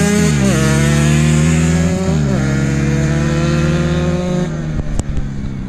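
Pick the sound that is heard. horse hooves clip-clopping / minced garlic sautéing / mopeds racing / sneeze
mopeds racing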